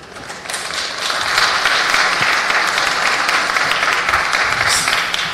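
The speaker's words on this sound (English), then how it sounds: "if we could just stop clapping so we can hear the names, I'd appreciate it very much" Audience at a city planning committee meeting clapping, a dense crackle of many hands that swells after the first second and holds steady, with no talking.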